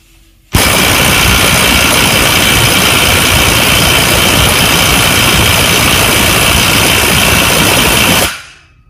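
A cordless impact wrench drives a bolt to around 400 newton meters in one continuous, very loud, dense hammering burst lasting about eight seconds before cutting off abruptly.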